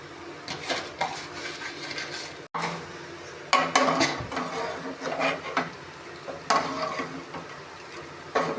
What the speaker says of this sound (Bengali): আর কিছুক্ষণ নাড়বো, নেড়ে নামিয়ে দেবো